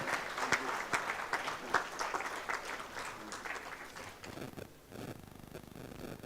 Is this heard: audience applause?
yes